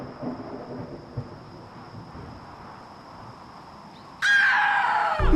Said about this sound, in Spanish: los truenos que comenzaban a escucharse en la lejanía, auguraban una tormenta inminente